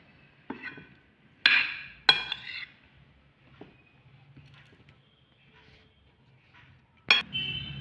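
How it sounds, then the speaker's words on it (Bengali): Tomato and onion salad being mixed in a bowl: a few sharp clinks and scrapes of utensil against bowl, spaced out with quieter stirring in between, close and fairly loud, no talking. "এবার আমি এগুলো সব একসাথে মিশিয়ে নেব টমেটো পেঁয়াজের সাথে।"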